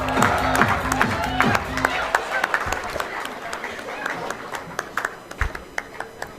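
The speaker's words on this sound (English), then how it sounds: "Let's make some noise for Reliable IT School" An award ceremony crowd cheers and claps for a winning school, loud mixed whoops and voices at first, then thinning into scattered individual claps with distinct sharp hand slaps toward the end.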